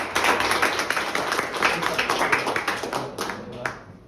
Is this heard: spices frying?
no